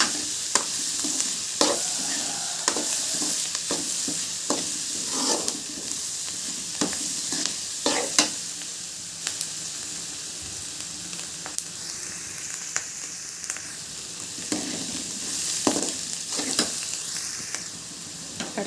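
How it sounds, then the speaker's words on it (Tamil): Chana dal and urad dal sautéing in a pan while cooking bottle gourd kootu, with a continuous gentle sizzle and repeated light scraping taps of a stirring spoon. "அடுத்து கடலைப்பருப்பு, உளுந்து இந்த ஸ்டேஜில் சேர்த்துக்கலாம்"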